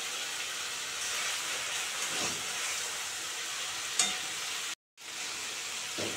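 Spice paste (masala) frying in oil for a fish curry gives a steady, close hiss of sizzling with a faint stir and a brief click, then a sudden short cut to silence before the sizzle resumes.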